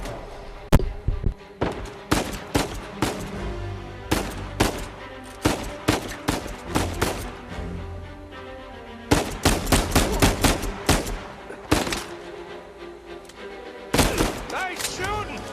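Loud, sharp gunshots in Uncharted 4: A Thief's End, fired in quick irregular volleys with brief pauses between clusters, close and punchy, with game chatter in between.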